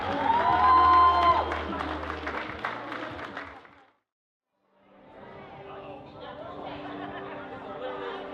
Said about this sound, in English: let's give a nice round of applause for our new Matt and his mom